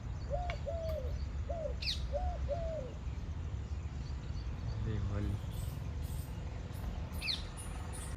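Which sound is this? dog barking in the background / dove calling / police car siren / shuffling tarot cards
dove calling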